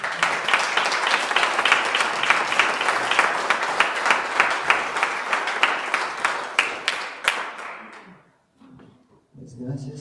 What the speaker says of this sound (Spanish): Les damos un fuerte aplauso al Señor.